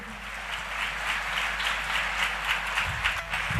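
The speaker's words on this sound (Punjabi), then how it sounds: "ਇੱਕ ਵਾਰੀ ਇਹਨਾਂ ਦੇ ਲਈ ਤਾੜੀ ਲਗਾਓ ਸਾਰੇ ਜਾਣੇ" A church congregation applauding its volunteers, steady dense clapping from many hands filling the room evenly throughout, moderately loud with no talk over it.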